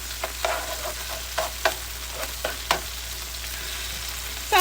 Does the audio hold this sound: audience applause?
no